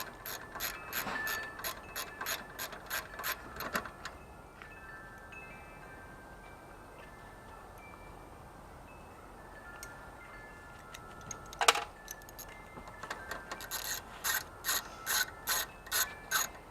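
A ratchet turns the 8 mm screws holding the gas tank on a Toro Recycler lawn mower. Quiet, evenly spaced clicking comes in bursts, with a pause in the middle and a single sharp clank before the clicking resumes.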